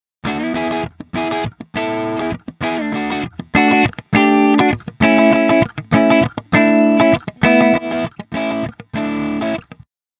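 Electric guitar through an amp simulator with its input level set wrong, a dozen or so distorted strummed chords in short even bursts separated by brief silences, loud and alone.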